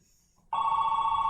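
A telephone rings from a played recording: silence, then a loud, continuous electronic ring that begins abruptly and holds steady to the end.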